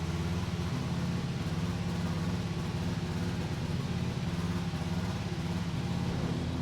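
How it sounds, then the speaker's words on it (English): An F1 car engine in the racing game F1 2020 at the Hungarian Grand Prix hums in a steady, even drone, held at a constant pitch and level with no speech over it. "The car is very loud in my ears already."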